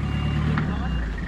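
Reversing beeps from a truck backing up, heard over a steady rumbling engine with people talking nearby.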